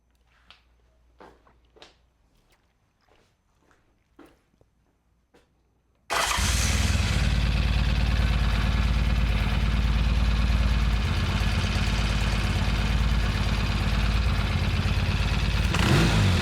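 A Norton motorcycle engine turns over and fires after several quiet clicks and knocks, then runs loud and close at a fast, steady idle with slight rises in revs, and no one talks.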